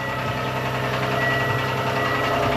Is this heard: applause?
no